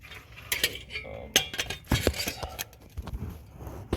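Hand tools clinking and ratcheting on the torque converter bolts of a 2010 Toyota Tacoma during rear main seal work, a close series of irregular metallic clanks and taps with brief pauses.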